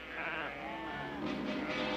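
A flock of sheep bleats in a TV western scene, with overlapping wavering calls against a dense, quiet background.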